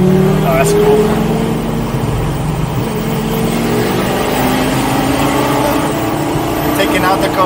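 A car engine runs steadily on a drive, a continuous loud hum with a slowly rising pitch as it accelerates, heard from inside the moving vehicle.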